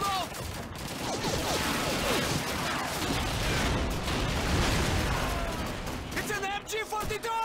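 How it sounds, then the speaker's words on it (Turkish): MG42 machine gun fire in the video game Call of Duty 2 rattles on continuously amid a dense battlefield din of gunfire, with shouted voices mixed in and near the end. "It's an MG42."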